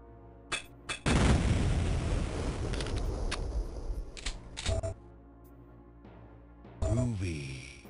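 Ripper chaingun firing in Duke Nukem 3D, a loud burst of rapid gunfire lasting several seconds, followed by scattered shots and brief game sounds, with talk nearby.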